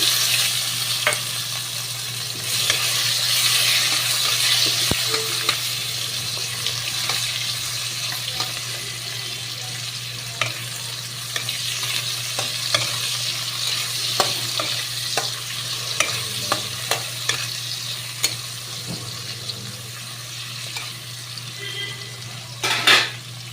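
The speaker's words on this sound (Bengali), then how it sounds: "এবার আমি কিছু পেঁয়াজ কিছু দিয়ে দিলাম" Onions hit hot oil already holding torn bay leaves for a chicken curry, giving a constant sizzle under repeated scrapes and clinks of a spatula against the pan, close and busy, with no talking.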